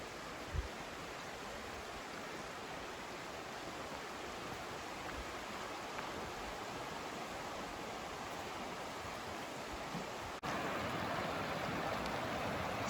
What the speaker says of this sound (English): So we've made our way down to the Loyalsock River.